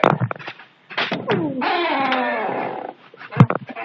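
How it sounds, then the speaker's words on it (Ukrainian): Dogs make close whimpers and a long whining, rising-and-falling cry, with short growly sounds and a sharp knock or yip near the end, mixed with brief human vocal sounds. "О, мої песики"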